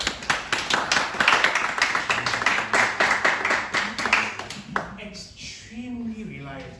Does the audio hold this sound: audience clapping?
yes